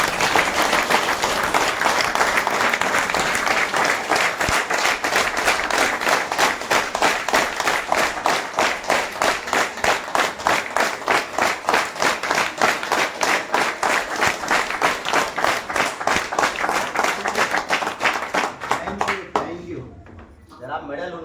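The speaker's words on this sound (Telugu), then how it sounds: "ఒక్కసారి క్లాప్ చేయండి." An audience at a meeting claps for a long stretch, a dense, loud, evenly rhythmic wall of applause that carries on steadily before cutting off near the end.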